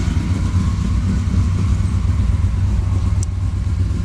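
A 1955 Chevy Bel Air with a 502 big block engine idles steadily in drive, producing a loud, continuous low rumble close by with no talking.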